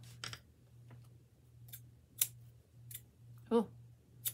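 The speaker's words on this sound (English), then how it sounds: "sharp scissors would help, huh?" Sharp snips of scissors cutting crochet yarn, several separate crisp clicks spread unevenly over a quiet low hum, with one brief spoken word.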